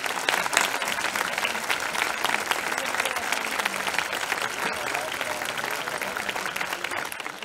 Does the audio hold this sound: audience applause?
yes